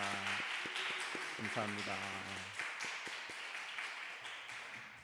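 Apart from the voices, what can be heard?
congregation applauding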